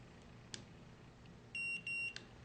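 An electronic door lock answers a held set button with two short, high electronic beeps in quick succession, faint ticks of button handling around them in a quiet room.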